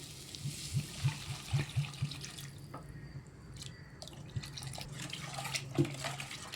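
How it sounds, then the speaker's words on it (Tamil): Water is poured into a cooking pan over sautéed ingredients while making a side dish for puri, chapati and dosa. The soft, faint trickling and light bubbling is quiet and close, with a few small drip-like spurts. "இப்போ கொஞ்சம் தண்ணி ஊற்றிக்கலாம்."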